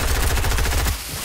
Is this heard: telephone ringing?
no